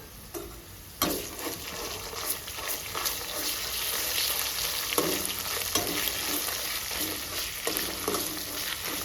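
Ginger garlic paste frying with onions in hot oil for a mutton keema and broad bean curry, giving a loud continuous sizzle with occasional spoon scrapes and stirring knocks, close by and without speech.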